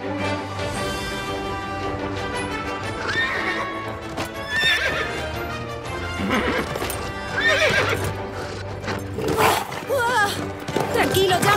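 Cartoon horses on a Playmobil horse farm whinny and neigh over steady clip-clopping hooves, loud and close, with voices talking at times alongside.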